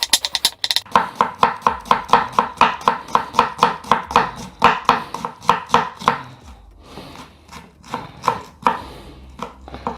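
Knife finely chopping calamari on a board: a fast, even run of crisp close taps for several seconds, then a looser, quieter stretch of irregular cuts, with no talk.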